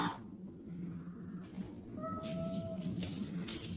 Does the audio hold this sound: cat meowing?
yes